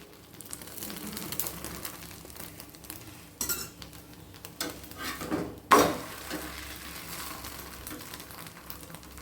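Parota frying in oil on a hot griddle, a steady low sizzle under occasional scraping and clinking of a metal spatula, with one sharp clatter partway through.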